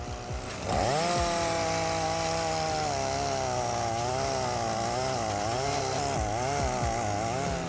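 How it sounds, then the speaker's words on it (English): A 20-inch chainsaw cutting old oak logs, revving up sharply after a brief idle, then running loud and close under load with a strong buzzing whine that shifts in pitch as the bar bites through the wood. "processing old oak logs with a 20-inch chainsaw in a short time with high speed and precision"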